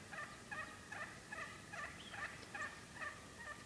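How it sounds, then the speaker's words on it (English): Distant wild turkeys gobble repeatedly in quick, warbling bursts, roughly evenly spaced, faint against a hushed outdoor background. "they all gobble together"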